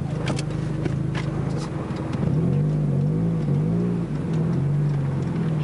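A car engine idles steadily after its tuning maps have been switched. A close, even rumble runs throughout, with slight rises in pitch and a faint ticking above it.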